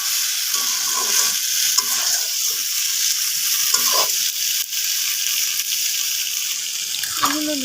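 Potatoes and a small amount of meat are stirred in a frying pan, giving a constant loud sizzle with scraping and clinking from the stirring, close by and without speech.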